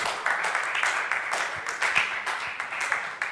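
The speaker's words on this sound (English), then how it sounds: "Let's clap for her." Audience at a Bible quiz contest in Wolverhampton clapping for a contestant who answered correctly, a short, moderately loud burst of mixed claps with faint voices beneath.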